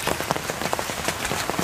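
Heavy monsoon rain pours down steadily, a dense close hiss of drops pattering on surfaces with constant intensity.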